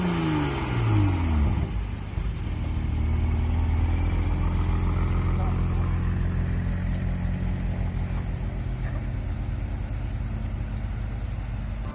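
A Toyota Supra engine at Goodwood, a loud rising whine and roar at the start that settles into a sustained close engine drone.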